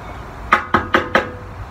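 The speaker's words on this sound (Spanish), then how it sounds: "Llamó a la puerta" Four sharp knocks on a house's wooden door, evenly spaced and close, with a brief pause after the first.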